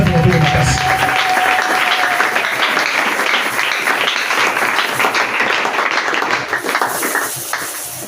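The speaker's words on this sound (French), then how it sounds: "Est-ce que tu peux acclamer très fort?" A church congregation at a Sunday celebration and worship service claps loudly, a dense, sustained burst of applause from a large crowd that fades slightly near the end.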